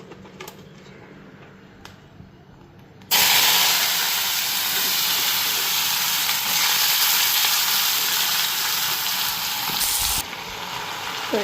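Potatoes and pointed gourd hit hot oil already spiced with dried red chilies, bursting into a loud, steady sizzle that starts abruptly after a quiet moment and keeps hissing strongly and evenly throughout, with no talking.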